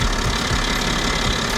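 A BMW X5 engine idles steadily during an oil level check, giving a loud, even mechanical hum with a faint ticking knock throughout and no voices.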